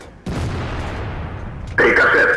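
In a tank video game, a sudden loud cannon boom is followed by a sustained rumbling roar, then a sharp metallic ringing clang of a ricochet near the end.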